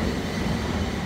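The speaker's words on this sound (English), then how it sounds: "We're waiting for the train" A train at Victoria station in London rumbles steadily at close range, a dense continuous rolling noise with no voices.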